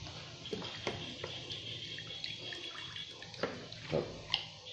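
Fish sauce poured into a chicken galangal curry, faint soft liquid splashes and drips in short irregular bursts, near and quiet with no talk.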